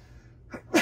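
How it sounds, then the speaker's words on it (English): A single sharp sneeze from a sick person, a soft intake at the start building to a loud burst near the end, close up during an indoor sports card box break. "I'm finna sneeze."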